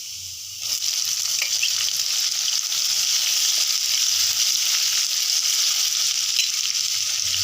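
Steady, close sizzling of onions frying in a pan, a constant hiss with occasional crackles and faint stirring, no talking.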